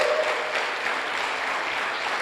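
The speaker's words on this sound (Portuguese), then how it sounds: "Dê um aplauso a Jesus" Applause from a seminar audience in a church setting, a dense, steady wash of clapping hands lasting throughout without pauses.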